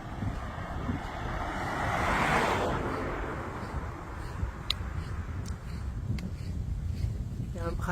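Steady coastal wind by the sea along the Portuguese coastal Camino near Belinho and Carreço, a broad continuous rushing roar with buffeting on the microphone, swelling in the middle, faint surf-like hiss beneath and a few light ticks.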